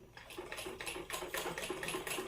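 A sewing machine stitches cloth in short rapid bursts of clattering mechanical ticks, close and fairly loud, with brief uneven pauses between runs and no voices.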